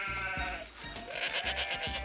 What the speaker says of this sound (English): We're a herd of sheep and goats.